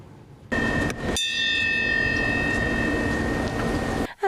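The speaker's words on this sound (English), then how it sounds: "As the bell rings outside the Holland House" A bell rings outside the Holland House restaurant in Savannah, a loud sustained ringing tone with clanging onsets, carrying on for several seconds over a busy outdoor background with no talk.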